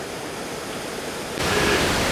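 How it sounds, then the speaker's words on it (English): Steady, dense rush of falling water from a tall waterfall in a stone gorge at Watkins Glen State Park, New York, close and loud, swelling noticeably louder partway through as if stepping nearer. "And here is the tallest waterfall"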